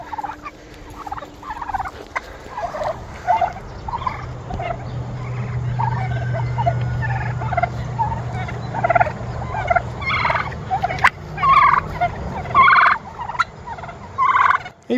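Turkeys gobble repeatedly in bursts over a steady low hum, several birds calling close by with overlapping, warbling gobbles.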